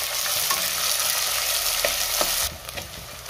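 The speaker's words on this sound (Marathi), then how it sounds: "त्यातच कांदा घालते आणि कांदा 2 ते 3 मिनिटं चांगला आपल्याला परतून घ्यायचा आहे।" Chopped onion frying in a pan for chicken biryani, a loud continuous sizzle broken by scraping stirs and spoon knocks against the metal, close up with no talking.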